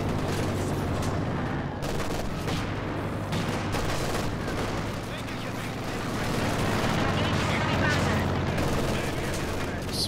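Sustained machine gun fire and explosions from the real-time strategy game Company of Heroes 2, a dense continuous battle din of rattling bursts and booms, with someone commentating over it.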